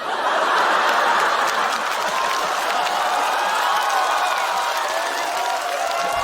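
A stand-up comedy audience applauds steadily, a dense continuous clapping from a large indoor crowd mixed with scattered chuckles and laughter.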